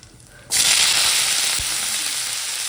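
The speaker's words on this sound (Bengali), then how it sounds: "এখন ডালে ফোড়ন দেবো।" Radhuni, cumin, bay leaf and dried chilli hit hot oil for a dal tempering, bursting into a loud, steady sizzle after a short quiet start and frying on without pause.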